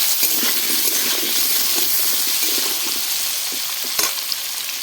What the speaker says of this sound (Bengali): আলুর মধ্যে নুন দিয়ে দিচ্ছি, দিয়ে ভালো করে আমি হালকা লাল লাল করে ভেজে নেব